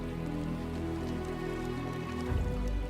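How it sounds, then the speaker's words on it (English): Steady rain falls outdoors in Canada's wild north, a dense, even patter of drops close by with no voices. "it started to rain"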